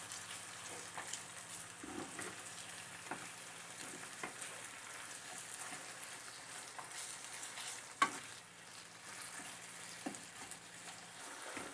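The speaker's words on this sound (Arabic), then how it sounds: "ما بقى لي الا نزيد الكفته ديالي. انا كنخلطها هكا مزيان مع البصله وفي نفس الوقت كنبقى نفرتتها." Minced meat kofta frying with onions in a pan, a quiet continuous sizzle broken by occasional spoon scrapes and clicks as it is stirred, close and with no voices.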